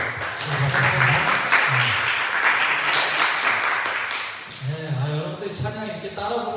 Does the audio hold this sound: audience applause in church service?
yes